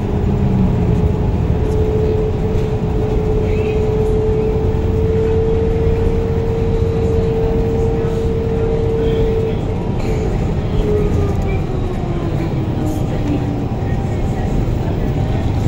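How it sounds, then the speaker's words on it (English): City road traffic heard from inside a car driving near Lomas in Albuquerque during fair time, a loud steady engine and road rumble with a long low tonal drone running throughout. "Look at this traffic."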